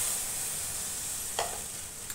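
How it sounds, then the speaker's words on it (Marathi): Steady sizzle of hot roasted wheat flour in a pan, with a brief splashy hiss as a little milk is poured in, close and fairly loud with no talk. "मी आता याच्यात थोडंसं दूध घालते."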